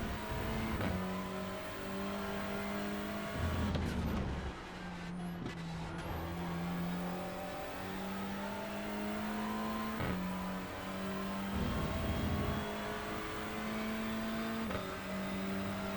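Mercedes F1 car engine in the iRacing sim, droning steadily at high revs throughout, with brief dips and lifts as it shifts and brakes through corners, loud and close with no talk.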